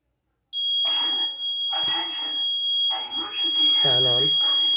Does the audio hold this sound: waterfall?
no